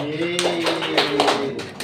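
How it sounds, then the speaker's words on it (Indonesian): Classmates in a classroom give a short round of claps, several soft bursts in quick rhythm, while a voice carries on underneath. "Tepuk tangan untuk Mbak Dita."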